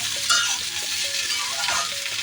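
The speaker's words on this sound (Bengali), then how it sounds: "আলু আর ফুলকপিটা দেখো কত সুন্দর ভাজা হয়ে গেছে।" Potato and cauliflower sizzle steadily in a pan while a utensil stirs and scrapes through them, the frying crackle loud and close throughout.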